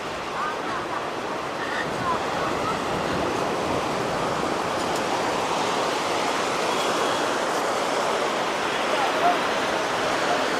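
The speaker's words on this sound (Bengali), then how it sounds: "দেখুন ঢেউ জল কত দূর চলে আসছে" Sea surf rushes continuously in a broad, steady wash at Puri Beach, India, with waves breaking nearby and a person's voice faintly present over the roar.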